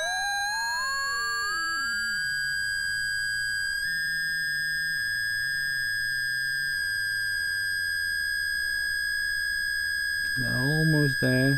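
An analog multifunction oscillator sweeps through a bright, steady synth tone with exponential frequency modulation, rising and falling in pitch with a buzzy, noisy edge before warbling wildly near the end.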